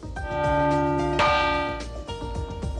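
A large cast church bell rings with strong, sustained harmonic tones, one loud strike near the middle ringing out over earlier decaying hums, alone without speech.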